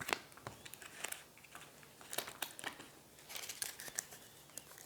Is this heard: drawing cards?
yes